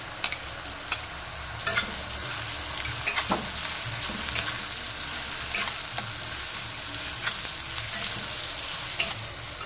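Onion and green chilli sizzle in a pan for egg rice as ginger garlic paste goes in, a continuous close frying hiss with scattered stirring scrapes and light clinks, no voices.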